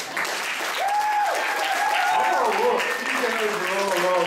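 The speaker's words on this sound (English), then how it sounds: "they really need a big round of applause too" Audience applause for the members of a live band, steady and full throughout, with a voice and some sung or sustained tones running over the clapping.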